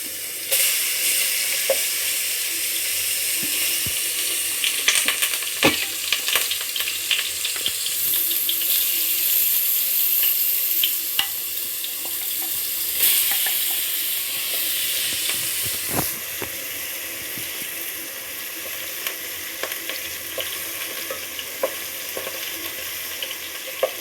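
Prawns sizzling in hot oil in a pan for prawn biryani, with a steady loud frying hiss, crackling spits and occasional stirring scrapes throughout, no speech.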